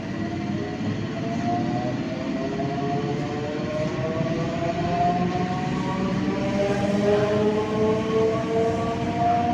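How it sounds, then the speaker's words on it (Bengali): A train pulling out of Rasulpur junction station, its horn sounding in long sustained tones over the continuous rumble of wheels and carriages, heard from on board. "আমরা এখন রসুলপুর ছেড়ে বেরিয়ে যাচ্ছি।"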